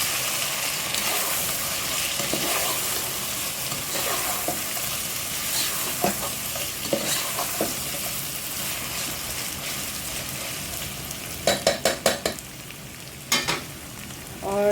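Chicken goes into a hot pot for white chicken pulao and is stirred, producing a continuous close sizzle with scraping stirs and a few sharp utensil clinks near the end.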